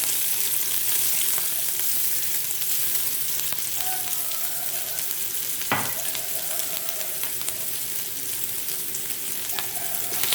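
Crushed onion sautéing in a pan for a mutton and moringa leaf soup produces a steady, close crackling sizzle throughout, with a few sharp taps and scrapes from a stirring spoon.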